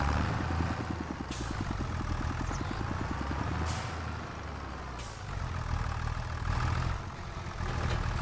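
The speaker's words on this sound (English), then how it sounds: "I really like this little peppy tractor." A small tractor's engine runs in Farming Simulator 25 on a Louisiana map, a steady, close diesel drone with a pulsing low throb and occasional brief hissing bursts on top.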